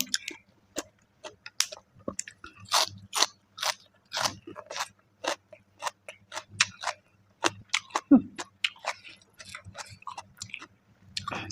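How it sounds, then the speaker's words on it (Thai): Crunchy, wet chewing of a spicy fresh shrimp salad, dense bites in quick irregular bursts, close and loud, with brief speech in between. "เวลาเรากินกุ้งสด"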